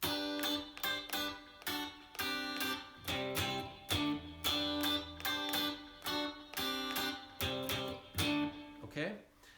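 Strummed guitar chords played in a steady rhythm, loud and close, with no talking.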